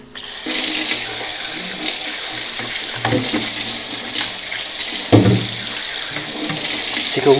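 Tap water runs loudly into a sink as the brush from an iRobot Scooba floor-washing robot is rinsed under it, a steady splashing stream broken by shifting gurgles as the brush moves through the flow.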